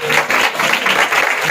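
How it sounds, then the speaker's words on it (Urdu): A church congregation applauds loudly to welcome the new year at a New Year service, a dense, steady burst of clapping filling the whole moment without talk. "اس سال کو ہم زوردار تالیوں کے ساتھ ویلکم کریں گے"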